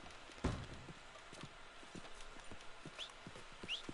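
Horse hooves clip-clop in Red Dead Redemption 2, a steady rhythmic trot of sharp knocks at moderate distance over a faint ambient background.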